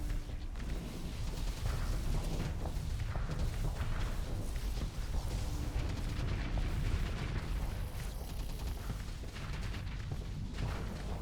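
Long-range weapon fire from a Griffin ship in a Starsector space battle, a dense continuous barrage of booming, rumbling blasts with no clear gaps, loud and sustained throughout.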